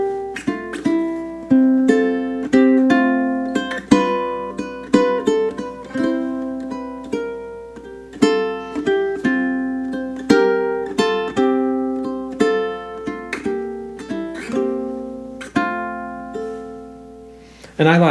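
Classical ukulele plays measures of the Andante No. 2 etude, a steady fingerpicked stream of plucked notes with a brief held pause near the start, close and clear with no talking.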